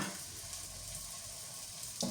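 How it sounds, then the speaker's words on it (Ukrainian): Steady, fairly quiet sizzling of potato pancakes frying in a pan, with a small clatter near the end. "Ось так смажу, перевертається добре."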